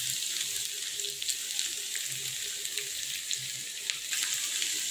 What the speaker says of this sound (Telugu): ఇలా ఆయిల్ వేడయ్యాక బెండకాయ ముక్కల్ని దీంట్లోకి వేసుకోండి. ఇట్లా ఆయిల్లో వేసుకోండి.